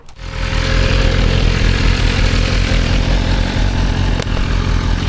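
A Honda CBR600F F4i motorcycle engine starts and runs steadily at a loud, close idle with a constant low throb, heard alone without talk.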